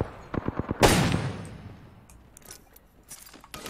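Several quick gunshots from Apex Legends crack in a short burst, followed by a louder blast and a fading tail with scattered faint clicks afterward.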